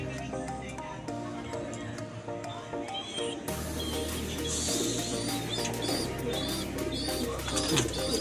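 Pigeons cooing nearby in a loft, soft low repeated coos under a person talking, with a louder stretch of bird sound in the second half.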